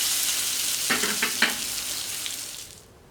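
Iberian pluma pork sizzles steadily as it browns in a pan, a close, constant hiss with a few brief louder spatters, then it fades out at the end.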